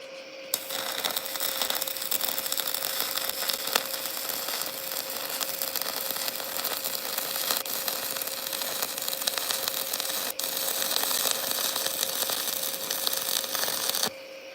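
A cheap stick welder burning a rod gives a steady, loud crackling hiss that runs unbroken for about fourteen seconds, with a faint constant tone beneath it and no talking.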